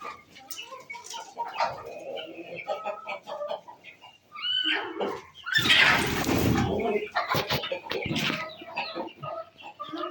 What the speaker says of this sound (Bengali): এইগুলোই হচ্ছে আমার ফাউমি মুরগি